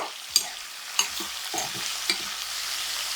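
Ivy gourd (dondakaya) fries in a pan with a steady soft sizzle, broken by a rhythmic series of scraping stirs from a spatula, close and fairly quiet.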